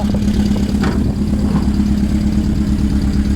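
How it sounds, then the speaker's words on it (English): A 1974 VW Beetle engine idles steadily on its own, a close, even low throb with a slight clattery rhythm holding throughout. "Let's turn off the engine."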